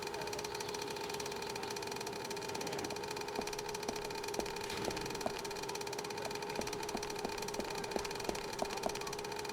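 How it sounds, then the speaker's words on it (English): Boat engine from the adventure game Secret Files 2 running steadily, a low mechanical hum with faint regular ticks and a constant drone, moderately quiet with no voices. "I am actually quite happy that the croc is now focused on the vibrations caused by the boat's engine."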